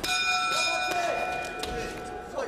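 A boxing ring bell rings out to end a round in a professional bout, one clear sustained ringing tone that slowly decays while a commentator talks over it.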